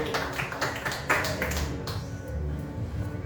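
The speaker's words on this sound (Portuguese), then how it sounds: "As palmas exaltando e agradecendo o nome do nosso Deus." A church congregation claps their hands in worship, with rhythmic claps over a warm musical backdrop that softens toward the end.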